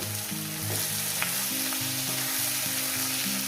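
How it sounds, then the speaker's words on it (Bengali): Dried fish and masala ingredients hitting hot oil on an outdoor riverside fire, giving a dense, steady sizzle and crackle that stays loud throughout with a faint tap or two. "তেলটা আমার গরম হয়ে গেছে এবার দিয়ে দেবো দিয়ে দিলাম"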